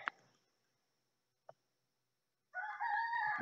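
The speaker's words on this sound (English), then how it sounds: "come hang out with the roosters" A rooster crows loudly near the end, preceded by quiet stretches with a faint squawk and a brief click.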